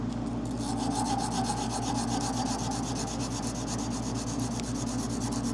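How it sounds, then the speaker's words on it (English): Sandpaper rubbed over a waterjet-cut die, a steady, close rasping scrub with quick back-and-forth strokes that continue without a break. "Just wanna go over the die with the sandpaper."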